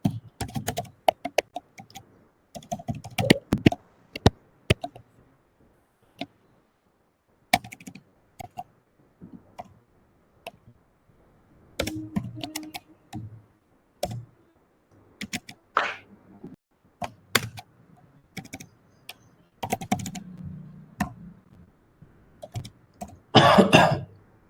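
Lines of code typed on a computer keyboard during a data engineering interview: scattered quick keystroke clatters in irregular bursts with silent gaps, plus a cough and throat clearing near the end.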